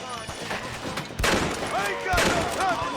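Gunfire rings out in the Red Dead Redemption video game, two sharp loud shots about a second apart over a busy background of shouting voices and game noise.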